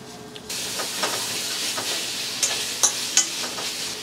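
Green chilies, cashews and ginger garlic paste fry in hot oil with a sudden onset of dense, continuous sizzling, broken by a few sharp spatters and pops near the end.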